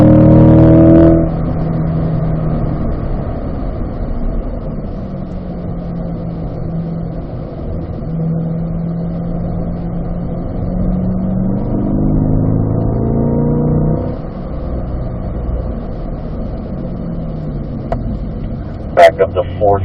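A car on a race track, loud and close throughout, its engine tone rising and falling through gear changes, with a voice talking over it.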